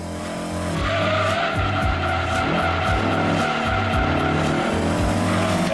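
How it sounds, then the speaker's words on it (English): A Ford GT race car in the video game Gran Turismo 2 skids with squealing tires over a droning engine, the screech rising and falling in repeated pulses, loud and continuous. "It's a Ford GT, okay."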